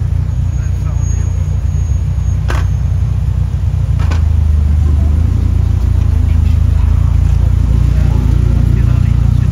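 Alfa Romeo car engine running at a classic car gathering in Versailles, a loud, steady low rumble filling the whole stretch, with voices talking over it.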